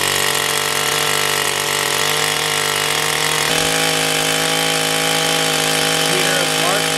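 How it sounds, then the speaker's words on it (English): A power drill runs steadily and loudly, boring into a bedrock outcrop on a mountain trail, its droning whine holding constant with a slight pitch drop midway and no pauses. "we're going to drill a hole into one of these bedrock outcrops"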